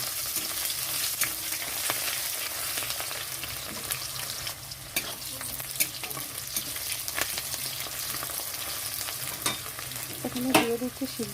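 Chopped onion fries in hot oil with nigella seeds, dried red chili and garlic: a steady, moderate sizzle with occasional light stirring clicks throughout.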